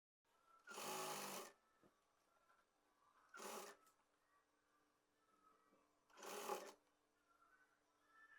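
A sewing machine stitches a second seam directly over the first on a six-panel palazzo, running in three short bursts of rapid whirring stitching with quiet pauses between, close to the listener.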